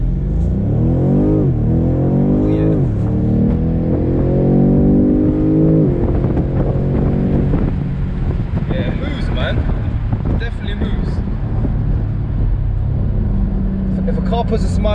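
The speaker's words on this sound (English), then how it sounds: "I'm at the lights, so I'm gonna do a little launch." A 2020 BMW M850i Cabriolet launches hard from traffic lights with traction control off, its engine roaring through rising revs and a gear change before settling into steady wind-buffeted cruising, with someone talking over it.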